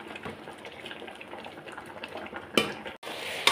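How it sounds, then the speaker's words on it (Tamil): Greens (keerai) cooking in a pot on a stove, giving a soft, steady bubbling and sizzling hiss, with a louder clatter of pot or utensil near the end. "ஒரு பக்கம் கீரை வெந்துக்கிட்டு இருக்கு"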